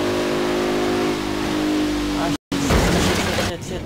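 A Bentley Continental Supersport 2017 engine in Forza Horizon 3, a loud steady accelerating drone with layered harmonics, a brief cut-out midway, then renewed engine roar with someone talking over it.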